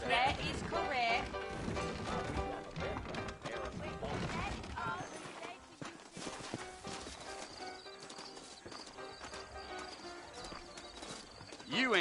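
Horse hooves clip-clop through a Red Dead Redemption scene in New Ulster, a steady rhythm running under dialogue and musical score, with occasional louder knocks.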